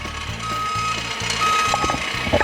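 A forklift's reverse warning beeper sounds in regular, evenly spaced electronic beeps over a steady mechanical hum from the running machine, fairly loud and close.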